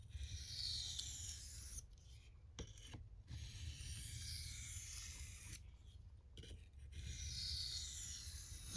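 Light-pressure edge-trailing strokes of an M390 steel Spyderco Manix 2 knife on a fine finishing sharpening stone, a series of soft raspy swipes separated by brief pauses, quiet and close with no talking.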